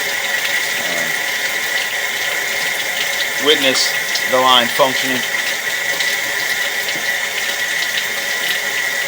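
Water flows through a residential sewer line during a camera inspection, a steady wet rush heard under a voice, with a brief burst of gurgling partway through.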